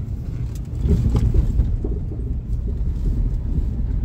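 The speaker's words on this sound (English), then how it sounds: "I'm going to drive on a little bit more bumpy terrain" A car engine rumbles steadily at close range, with low thumps and rattles as the vehicle rolls over bumpy terrain after an exhaust repair; no talking.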